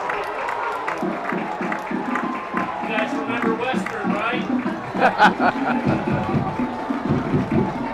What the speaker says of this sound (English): Cypress crowd coming to life.